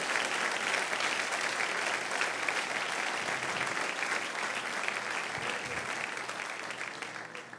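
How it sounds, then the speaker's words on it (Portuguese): Loud, sustained applause from a church congregation, dense steady clapping filling the room for several seconds and tapering slightly near the end, with no voices rising above it. "Se vai aplaudir, aplauda forte"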